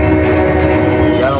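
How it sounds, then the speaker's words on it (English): A northbound train nears a railroad crossing, a loud, sustained horn blast over the heavy rumble of rail cars, with faint talk underneath. "train approaches."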